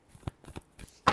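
A few soft riffles and slaps of tarot cards being shuffled by hand, short and close, ending in one louder card snap, with no voices.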